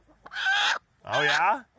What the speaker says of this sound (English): We have two hens in the nesting box trying to do this job.